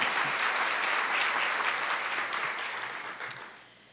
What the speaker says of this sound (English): So I just want to give Carol some applause